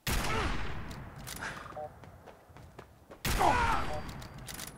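Weapon fire in the video game Fallout 4: two heavy bursts of gunshots with booming echoes, separated by quieter scattered clicks and thuds.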